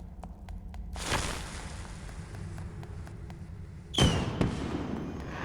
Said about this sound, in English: Turn this big honkin' firework launcher around.